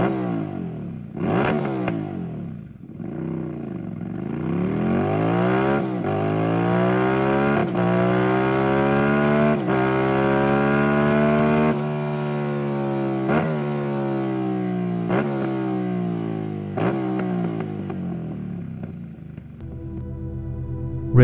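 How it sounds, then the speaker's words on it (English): An L-twin motorcycle engine revs repeatedly, its exhaust rising and falling in deep, throaty sweeps, loud and close, with no talking. "Oh, and the exhaust note, well, you know what to do."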